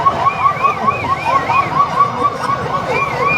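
A police vehicle siren wails in a rapid warbling yelp, cycling continuously and fairly loud over a busy street market background with faint crowd noise.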